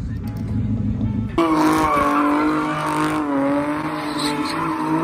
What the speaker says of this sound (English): They revving them, getting in their cars